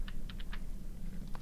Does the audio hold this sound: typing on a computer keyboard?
yes